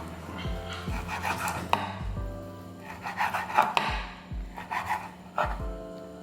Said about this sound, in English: And I will slice the bacon.